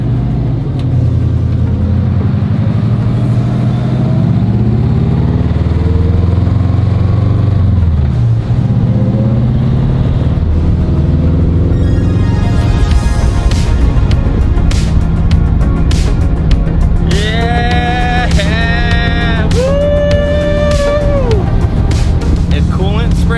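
A Subaru Impreza GC8 with a swapped STi engine drives on the street, its engine droning and rising through gears under a loud cabin rumble, while people talk excitedly inside.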